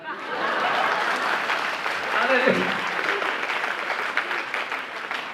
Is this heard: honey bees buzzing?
no